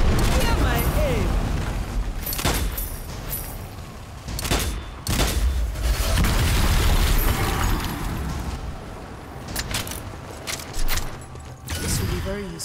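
Grenade blasts and bursts of gunfire in the co-op shooter Strange Brigade, loud and repeated across the clip with sharp booming hits, mixed with in-game voice lines.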